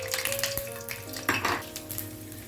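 About five garlic cloves frying in three tablespoons of hot oil in a pan for Kerala-style cooking, giving a soft steady sizzle with a few utensil clinks and scrapes near the pan.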